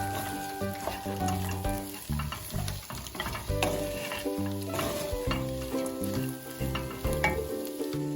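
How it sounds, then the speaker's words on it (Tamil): Ivy gourd (tindora) fries with a spice mixture in a pan, giving a steady sizzle with stirring scrapes beneath prominent tonal background music, and no one speaks. "இப்போ நல்லா வறுத்துக்கலாம்."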